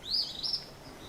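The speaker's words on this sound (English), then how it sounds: "But birds are singing." Birds singing outdoors on a pretty day near the Georgia–Alabama border, two or three clear high chirps close together, then faint background air.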